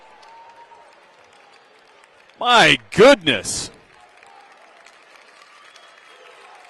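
Crowd at a Kearns vs Davis high school boys basketball state tournament game bursts into loud applause and cheering after a slam dunk, a short swell of about a second and a half, with a commentator talking over the gym noise before and after.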